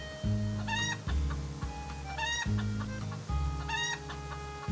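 Several chickens cluck in repeated bursts, loud and close, with sharp rising squawks punctuating a steady stream of clucking, used as a cheering sound in the farming game Story of Seasons: Grand Bazaar.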